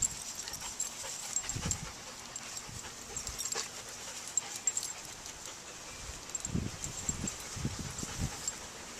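Several large dogs pant and whimper softly at a distance over a low background hiss, with a few brief louder huffs in between.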